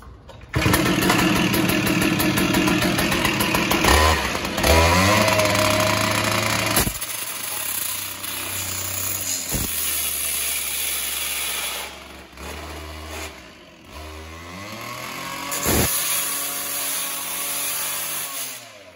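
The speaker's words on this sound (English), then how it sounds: "I'll show you how easy it is to start one of our gas saws." A Hilti DSH 600-X gas saw fitted with an abrasive metal-cutting blade is pull-started. After a few tugs it fires into a loud, close two-stroke roar, then revs and falls back to a steady idle.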